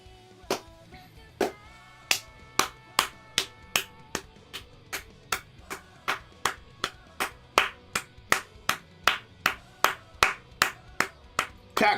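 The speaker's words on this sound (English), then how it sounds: "I just clap my hands." A pair of hands claps in a steady, rhythmic series of sharp, close slaps, roughly two per second after a few slower opening claps, alone against a quiet background.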